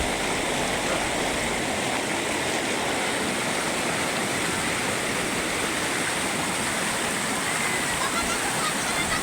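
Mountain stream at Jayanti Mahakal, a loud, steady rush of flowing water heard up close, continuous and broadband with no pauses.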